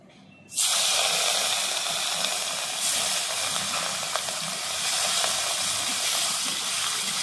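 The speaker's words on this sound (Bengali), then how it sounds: "চিংড়ি মাছের নুন হলুদ মাখিয়ে নিয়েছি, ভেজে নেব।" Shrimp rubbed with salt and turmeric dropped into hot oil in a wok, a sudden loud hissing sizzle bursting in after a quiet moment and then holding strong and steady, close by and alone.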